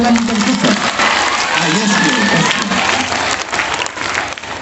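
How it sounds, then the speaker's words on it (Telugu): A school audience in a hall applauds a visiting scientist, dense and loud continuous clapping from many hands that fills the whole moment. "సైంటిస్ట్ గారికి చప్పట్లు కొట్టండి"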